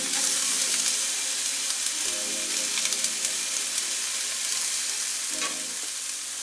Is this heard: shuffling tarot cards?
no